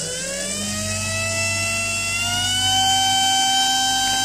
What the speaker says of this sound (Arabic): خلينا كده نسمع صوته لما احنا نزود العرض بتاع البلس